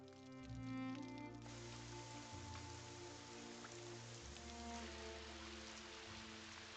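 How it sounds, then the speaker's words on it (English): Steady rain patters throughout under a layered musical backdrop, broadband hiss filling the background at moderate loudness. "it's raining outside"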